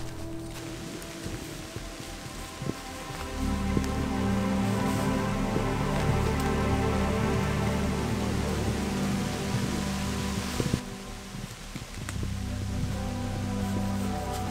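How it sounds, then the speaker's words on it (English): Heavy rain falls in an autumn woodland, a dense steady hiss of drops on leaves and an umbrella, swelling after a few seconds and staying loud with brief dips and no talking. "I've got the brolly out, which is helping to shield everything from the rain"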